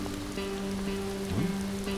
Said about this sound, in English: Ooh, that's a lot of rain.